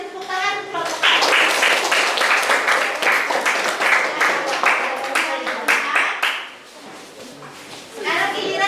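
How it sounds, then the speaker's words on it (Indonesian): Classmates in a classroom clap for the first student group, a dense burst of hand claps that starts about a second in and holds steady for roughly five seconds, then fades to scattered taps before picking up again near the end. "Sebelumnya kita beri tepuk tangan untuk kelompok 1."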